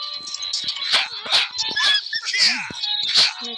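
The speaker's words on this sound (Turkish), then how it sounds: "Gördüğünüz gibi aç yaban köpek var." A wild dog yelps and whines in quick, high-pitched bursts, close and loud, with a few short growling yips between the cries, in the video game Metin2.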